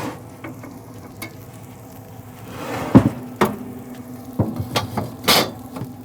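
Onions sizzle on a hot griddle as a spatula scrapes and pushes them aside, steady frying hiss broken by several sharp metallic clacks and scraping strokes, close and loud.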